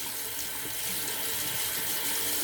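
Water runs steadily from a tap while a straight razor is rinsed under it, a close, even hiss with no voices.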